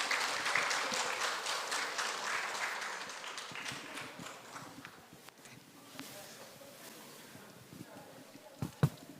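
Audience applause at a residents' meeting in a hall, steady clapping from a crowd that is moderate at first and thins out gradually, with scattered final claps near the end.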